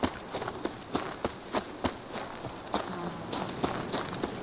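Footsteps of Geralt walking on foot in The Witcher 3: Wild Hunt, Blood and Wine, a regular series of crisp, close steps at an even walking pace over faint background ambience.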